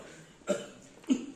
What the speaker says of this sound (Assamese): তারা কাহি থাকিব